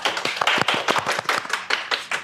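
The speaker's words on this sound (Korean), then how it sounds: "박수 부탁드립니다" A small audience claps at a Microsoft Azure workshop session for a presenter from SK C&C, giving a short, sparse patter of individual hand claps, close and distinct, with no talking over it.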